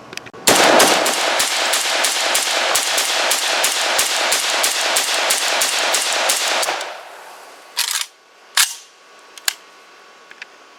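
An ATI Galil rifle fires a long, rapid string of about twenty loud, evenly spaced rounds, then pauses and lets off a few separate single shots, with no talking.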